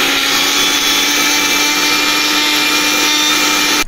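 Electric blender grinding hard dal lentils into a fine powder, a loud steady whine running continuously and alone, cutting off right at the end.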